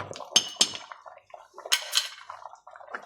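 A spoon stirs turmeric powder into a pot of sambar, with soft wet sloshing and a few light metallic clinks against the pot, close and moderately quiet.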